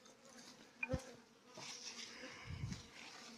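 Honey bees at an apiary buzz faintly in the background, a thin drone with a couple of brief knocks and handling bumps nearby, and no speech.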